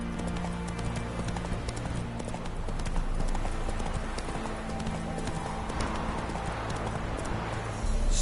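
Roach the horse gallops in The Witcher 3, a rapid, rhythmic clip-clop of hoofbeats running steadily and close, with game ambience beneath.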